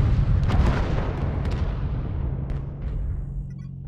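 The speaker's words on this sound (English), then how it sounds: "Acquired. Airstrike online." Airstrike artillery explosions in a video game, a dense rolling barrage of booms and crackling blasts that slowly fades and thins out toward the end.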